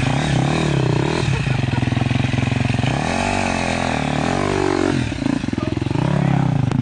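A dirt bike engine on an endurocross track with logs revs hard and drones loudly the whole time, its pitch rising and falling with throttle, while people shout and talk over it.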